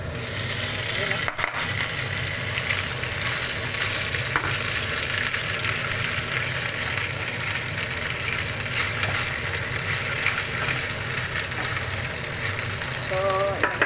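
Beef steak slices frying in a hot pan give a loud, steady sizzle for the whole stretch, with occasional stirring clinks and a voice talking briefly over the hiss.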